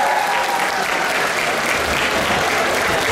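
A large audience at a university faculty contest applauds a jury of professors, producing dense, sustained clapping that holds at a steady, loud level as a broad wash of hands.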